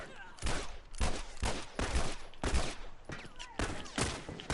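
Rapid bursts of gunfire in multiplayer The Last of Us Part 2, loud and dense, coming in repeated clusters of shots over about four seconds; faint voices sit beneath the shooting.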